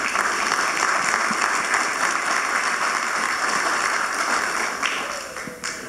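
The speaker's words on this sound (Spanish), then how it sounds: "Un aplauso para los invitados." Sustained applause from an audience at a film forum talk at the national library, steady and dense throughout, easing slightly near the end.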